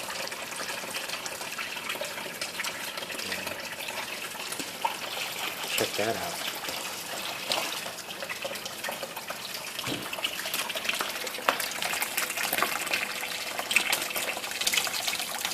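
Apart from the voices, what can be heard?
aquaponics bell siphon draining water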